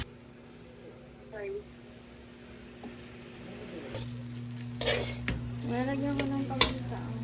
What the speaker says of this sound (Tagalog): Sinasunog yung ham.